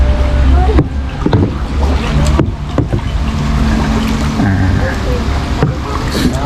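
A rowboat moving along an orchard canal in Sam Phran, Nakhon Pathom, Thailand, with a steady low engine-like rumble, splashing and wind noise, while people talk over it.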